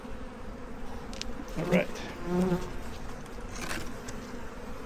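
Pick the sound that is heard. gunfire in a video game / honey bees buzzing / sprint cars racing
honey bees buzzing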